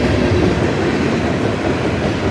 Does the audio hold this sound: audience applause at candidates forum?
no